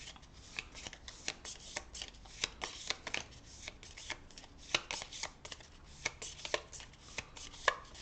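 Cards being shuffled for the Legendary Marvel deck-building game, a series of sharp, riffling snaps and flicks at an uneven rhythm, close and fairly quiet, with no one speaking.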